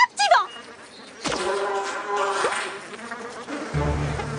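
Buzzing bees drone loudly, like a swarm close by, with the hum rising and shifting over a few seconds, in a cartoon.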